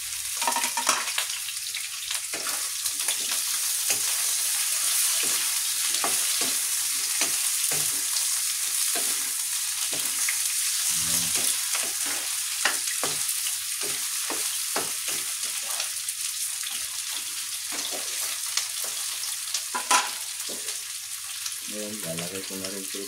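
Potatoes frying in a pan and being stirred, a constant bright sizzle with scattered scraping knocks from the utensil, steady and close throughout.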